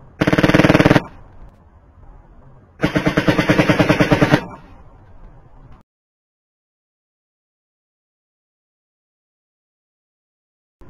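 Beretta M9A3 pistol converted to full-auto blowback, fired at a target outdoors: two loud rapid bursts, the first about a second long and the second about one and a half seconds, each followed by a fading echo, then silence.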